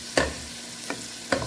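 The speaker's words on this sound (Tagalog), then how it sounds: "Mix lang po natin para po ma-absorb ng hipon yung ingredients." Shrimp and seasonings stirred in a hot frying pan, a steady close sizzle broken by three spatula scrapes, with no talking.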